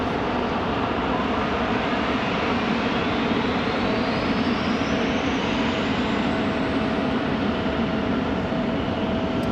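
A jet airliner at Raleigh-Durham airport roars steadily at a distance, a broad, unbroken wash of engine noise with a faint rising whine holding for the whole stretch, no voices over it.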